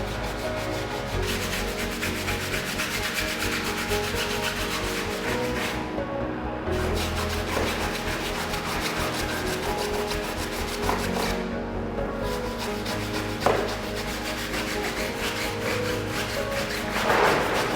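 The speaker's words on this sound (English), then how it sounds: "followed by the tyre walls using a stiff, short bristle brush" Stiff short-bristle brush scrubbing the tyre walls of a BMW E30 fitted with BBS rims, a steady continuous rubbing and scraping texture lasting throughout with a couple of brief pauses and a sharp knock near the end.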